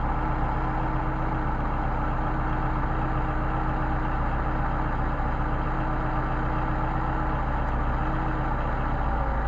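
A Mercedes 190SL engine with Solex carburetors idles steadily and loudly at close range, a continuous even rumble with no talking.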